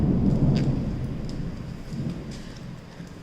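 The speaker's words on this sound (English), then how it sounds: "Lot of lightning happening, lot of rain around here." A thunderstorm with rain gives a low rumble of thunder that is strongest at the start and eases off, under a continuous wash of rain.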